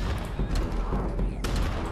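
Cannons and gunfire in the Totally Accurate Battle Simulator video game: a loud, dense, continuous battle barrage with overlapping shots and a sharper blast near the end.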